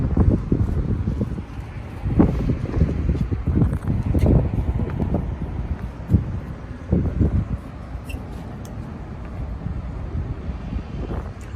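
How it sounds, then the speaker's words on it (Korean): Strong wind gusts buffet an exposed rooftop with little shelter, a loud, continuous rumbling roar with surging blasts and microphone buffeting throughout. "산들산들 불던 바람이 이렇게 엄청 많이도 불고 있어요."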